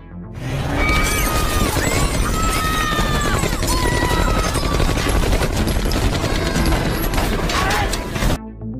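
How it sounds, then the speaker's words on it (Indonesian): Sudden, sustained machine-gun fire in a film gunfight: dense rapid bursts with crashing and shattering mixed in, loud and continuous for about eight seconds before cutting off. "Baku tembak yang secara mendadak tersebut"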